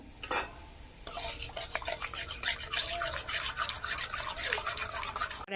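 Powdered milk stirred into milk and sugar syrup to make kheer, a quick brisk scraping and swishing of a spoon against the pot, close and soft, running steadily after a brief clink.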